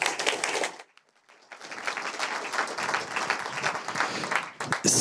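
An audience applauds at a Zero Project company dialogue conference in Upper Austria, with dense, sustained clapping that briefly dips into near silence before swelling again.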